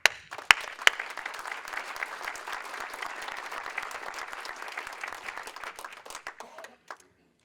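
A conference audience at a society delegates council keynote breaks into applause, a few sharp early claps swelling into steady crowd clapping that tapers off and stops near the end.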